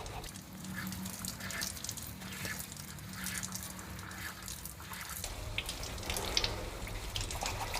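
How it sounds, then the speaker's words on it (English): Running water splashes steadily as a printed textile sample is rinsed under a tap, one dye color at a time; the flow is continuous and moderately close, with faint handling sounds and no speech. "Rinse each color separately."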